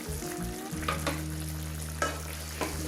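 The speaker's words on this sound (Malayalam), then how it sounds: "ചിക്കൻ്റെ അകത്തുനിന്നും ഒക്കെ നന്നായിട്ട് വെള്ളം ഇറങ്ങിയിട്ടുണ്ട് കേട്ടോ. അത് ഇളക്കി കൊടുക്കാം." Chicken curry being stirred in a pot over a low flame, its released juices bubbling; a steady close simmering sizzle runs throughout, broken by a few soft spoon scrapes and clinks against the pot.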